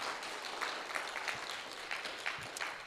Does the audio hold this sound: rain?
no